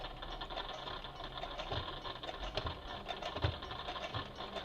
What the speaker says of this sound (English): And then you can just let go and continue sewing